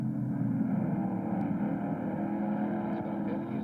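Moffat's Trans Am Mustang race car engine drones steadily and loudly at speed, a continuous unbroken roar running throughout with no talk over it.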